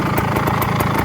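A vintage Beta Synt trial motorcycle engine idles steadily up close, a loud, even mid-pitched putter with a quick regular pulse, alone with no talk.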